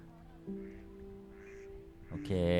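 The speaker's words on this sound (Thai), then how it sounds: "เราได้ยินเสียงเป็ดแล้ว" Ducks in the indie video game Short Memories, a few soft quacks over a quiet tonal background, ending with a louder burst of sound.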